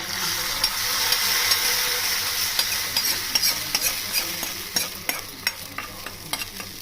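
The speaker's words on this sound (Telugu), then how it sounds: "వేగిన తాలింపుని" Hot fried tempering poured into a raw brinjal and tamarind pulusu gives a loud, close burst of hissing sizzle, then a spoon clacks and scrapes in quick strokes as the crackle fades, with no talking.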